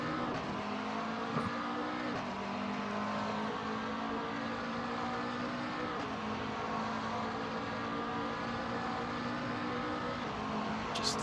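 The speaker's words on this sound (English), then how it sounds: "Listen to the sound of the McLaren. It's almost a very quiet purr." A McLaren race car in a sim racing game holds a steady, smooth engine drone at a sustained pitch for the whole stretch, with slight shifts in tone but no sharp revving. The sound is continuous and moderately loud, with no talk over it.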